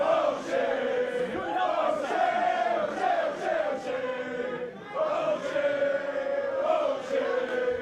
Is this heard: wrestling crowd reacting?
yes